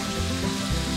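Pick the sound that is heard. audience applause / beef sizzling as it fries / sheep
beef sizzling as it fries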